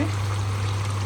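A small amount of broth poured into a pot of potato curry, a brief steady liquid trickle heard close up over a constant low hum, with no talk.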